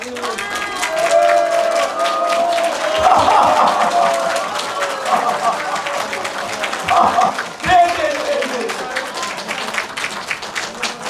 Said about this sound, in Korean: 박수 환영하겠습니다